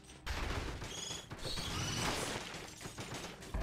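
Turrets in Dead Cells open fire on a tough elite enemy, a dense continuous fusillade of rapid gunshots and booms running steadily from start to finish with no voices.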